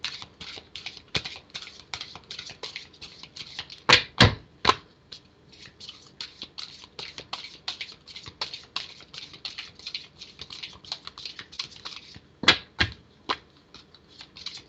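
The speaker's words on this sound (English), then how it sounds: "And I'm beginning Namrata's shuffle" Tarot cards being shuffled up close: rapid papery clicks and riffles, with a few louder flurries of cards snapping together.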